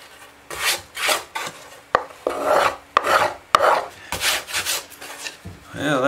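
Rhythmic rasping strokes of a hand tool shaving the wooden top of a mandolin, about a dozen close, scratchy passes with brief pauses between them.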